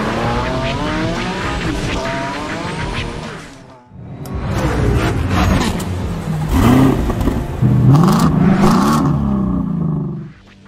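Modified Nissan Z, the ABR Hosoki Devil Z, revving hard with loud, rising engine notes and tire squeal, a short break, then more aggressive revving and skidding, close and continuous.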